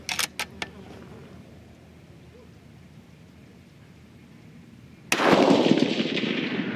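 A rifle fires a single loud shot with a 44.8-grain powder charge during load testing outdoors. A few faint clicks come first, then the sharp crack with a long fading echo tail.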